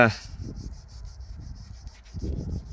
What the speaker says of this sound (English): It's the first sand it's had since the clear coat went on.